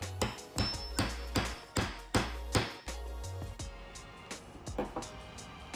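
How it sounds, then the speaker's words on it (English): A hammer strikes a metal hole punch through leather in a quick run of sharp, ringing taps, about a dozen firm blows in steady rhythm that thin out toward the end, close and loud. "take your hammer and punch your holes"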